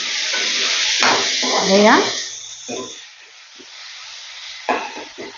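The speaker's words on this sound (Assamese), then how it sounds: "এতিয়া এইখিনি মই ভালদৰে লৰাই দিম" A spoon stirs salt and turmeric through food sizzling in a pan while making dahi kosu, a steady close frying hiss with scraping strokes, and a person talks over it.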